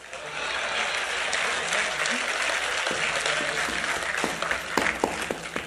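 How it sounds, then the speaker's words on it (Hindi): Audience at a mushaira applauding steadily, a dense wash of clapping from a crowd, with a few sharper individual claps near the end. "लेकिन अब आपकी तालियां उठनी चाहिए"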